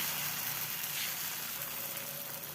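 Batter spread thin like a flatbread sizzles in a pan over low heat, an even, close, soft crackling hiss with no talk.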